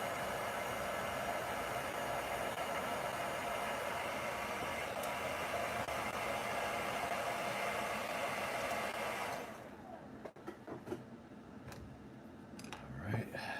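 A hair dryer drying paint on a sculpted portrait bust, blowing as a loud steady whoosh at close range for about nine seconds before it switches off, followed by faint handling clicks and rustles.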